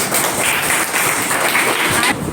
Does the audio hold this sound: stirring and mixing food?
no